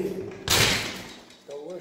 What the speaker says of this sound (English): the door should be open.